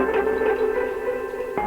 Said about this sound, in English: If I remove from the ARP, it just sounds like this.